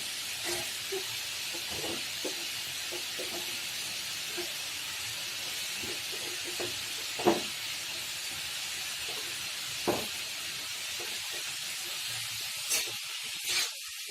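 Carrots, papaya and peas fry in oil in a pan, a steady, soft hissing sizzle with scattered little pops and crackles, heard alone with no talking.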